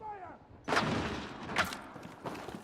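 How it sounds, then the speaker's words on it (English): Three mortar blasts boom in a military shooter game, each a sharp, loud thud that trails off into rumble, spaced roughly a second apart over quieter background noise. "Who the hell's firing mortars?"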